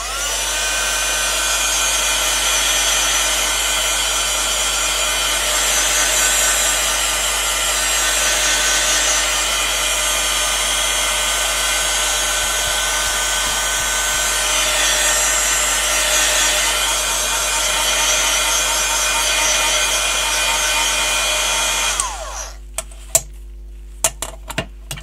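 Hair dryer blowing on a handmade craft card, a loud steady whirring hiss that runs for over twenty seconds, then cuts off into a few small knocks and clicks.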